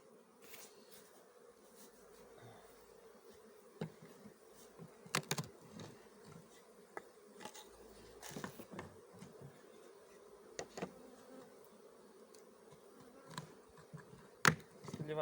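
Honey bees buzz in a low, continuous drone around a beehive on a mild February day, with scattered sharp clicks and knocks from handling the hive over the top.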